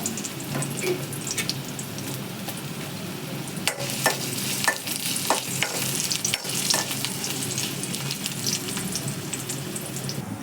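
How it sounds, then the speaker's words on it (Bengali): Potato pieces frying in a pan for a black cumin mash, giving a steady close hiss of oil with scattered clicks and scrapes of stirring throughout, with no talking. "সব আমি আলুটা ভেজে নেব শেষে আলুটা নিচ্ছি"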